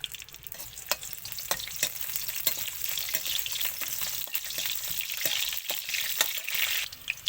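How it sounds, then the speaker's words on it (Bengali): Masoor lentils fry in a little oil in a pan for fenugreek-leaf dal, producing a soft, constant sizzle punctuated by frequent quick ticks and scrapes of stirring, fairly quiet and without talk. "এই ডালটা একটু অল্প তেল দিয়ে একটু কষে নেবো"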